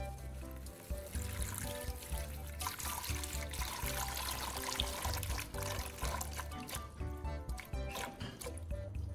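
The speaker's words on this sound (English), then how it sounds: "then draining out the water into a" Water drains out of an old car battery into a container, making a steady trickling pour that runs for several seconds under a dense, continuous background.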